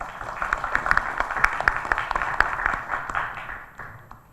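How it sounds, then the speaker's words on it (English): An audience at an academic seminar applauds to welcome a speaker. It is a dense, steady round of many clapping hands that gradually thins and fades out toward the end. "Please join me in welcoming Dr. Yep Banha with a big round of applause."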